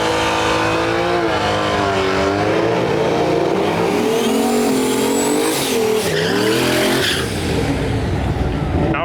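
A white S10 pickup and a Camaro launch in a drag race at a dragway, engines roaring loud and close with rising revs and tire squeal, the combined noise saturating the whole run.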